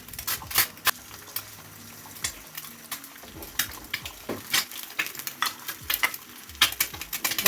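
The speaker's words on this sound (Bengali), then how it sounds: "ডিম আর পাউরুটি ভেজে নেব।" Egg and bread fry in a pan with a soft sizzle under frequent spatula scrapes and metallic clinks, close and uneven in rhythm.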